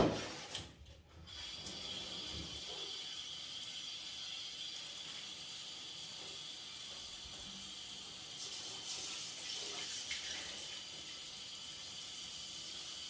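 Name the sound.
pouring water while cleaning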